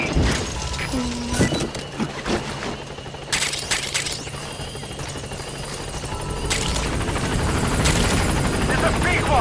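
A helicopter arrives at a landing zone in Metal Gear Solid 5, its steady rotor drone running under bursts of gunfire and crashing impacts, with a voice speaking over the din.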